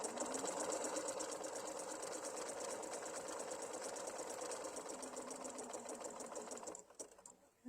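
A sewing machine runs steadily, stitching a tie-off on a mini quilt block with embroidery thread, a fast continuous whirring hum that stops abruptly near the end, followed by faint handling noises.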